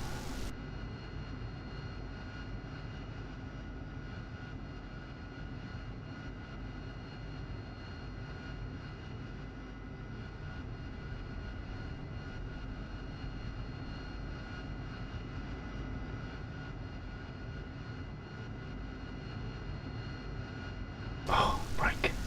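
An aircraft engine in a flight simulator game drones at a steady, even pitch for a long stretch, with a sharper burst near the end and a voice talking in places.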